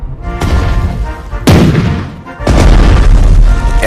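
An artillery barrage in the video game Strategic Mind: Fight for Freedom: three heavy booming blasts about a second apart, loud and close, each rolling out into a long rumbling decay.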